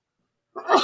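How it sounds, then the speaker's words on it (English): A man sneezes once after a moment of silence, a sudden close burst of breath near the end. "I got to sneeze."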